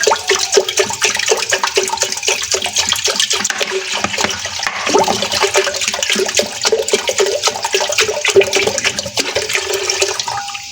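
One and a half liters of water pour steadily into a cooking pot holding half a kilo of chicken, a loud, continuous gushing splash with no voices.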